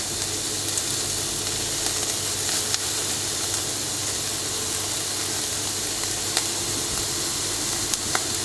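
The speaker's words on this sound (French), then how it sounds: "on va rajouter l'autre pièce de viande qu'on va cuire" Pieces of meat sear on a hot grill with a steady, close sizzle and hiss that runs unbroken, with a few small pops and crackles.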